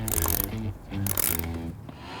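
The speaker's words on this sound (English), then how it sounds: "I'm gonna go around and tighten the beadlock ring in a crisscross pattern again" A torque wrench ratcheting as it tightens the bolts on a beadlock ring of a wheel, two close, loud bursts of rapid metallic clicking separated by a short pause.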